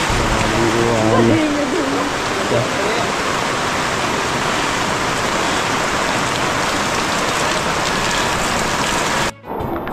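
Heavy rain pours down in a dense, unbroken hiss, with a voice briefly heard near the start.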